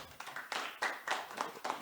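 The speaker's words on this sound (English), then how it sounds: "I think another round of applause there is an order" A small round of applause at a manufacturing summit press conference: a few sparse, uneven claps, faint and brief, in a quiet room.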